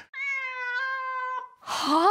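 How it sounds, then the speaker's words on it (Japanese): A cat gives one long, drawn-out meow, loud and close, steady for over a second before breaking off, followed by a short rough burst of sound. "猫だ。"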